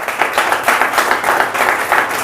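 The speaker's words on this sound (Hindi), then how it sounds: "जोरदार तालियां इनके लिए।" Loud, sustained applause from a motivational seminar audience, dense clapping from many people with a slightly pulsing rhythm, close and filling the room.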